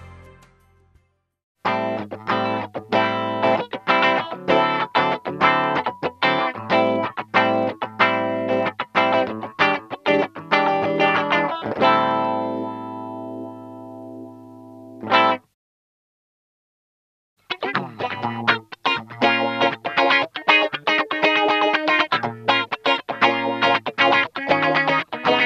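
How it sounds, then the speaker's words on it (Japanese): Electric guitar played through a ROWIN auto wah filter pedal, rhythmic picked chords with a bouncing filter sweep, a sustained held chord, a short stop and then busy strummed playing again, loud and alone. "オートワウはペダルワウのように自分で操作する必要がなく、自動でワウ効果を得られるフィルター系エフェクターです。"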